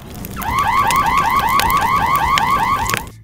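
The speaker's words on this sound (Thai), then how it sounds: "งานหลักของสัญญาณเตือนไฟไหม้คือการแผดเสียงให้ดังที่สุด" A loud electronic alarm wails in rapid repeating upward sweeps, piercing and continuous, with no voices.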